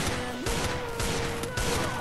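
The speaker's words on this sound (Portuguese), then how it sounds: "É um tiro, tropa" Rapid gunfire bursts from a Counter-Strike match, several sharp broadband shots in quick succession, fairly loud and close, repeating across the moment.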